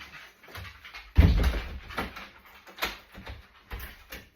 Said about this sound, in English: let me shut the back door